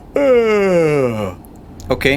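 A man imitates a tired truck driver yawning in Euro Truck Simulator 2, one long, loud, falling voiced groan held for about a second, then a brief spoken word.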